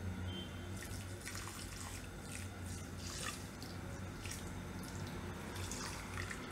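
Water is poured from above onto sugar in a kadai on a gas stove, making a steady splashing, trickling flow that runs evenly throughout, close by, with no talk.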